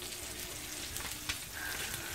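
Tomato and onion fry in a pan, a dense, steady sizzle with faint stirring scrapes throughout, close and continuous with no talk.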